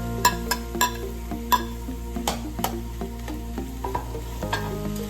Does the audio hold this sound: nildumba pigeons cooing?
no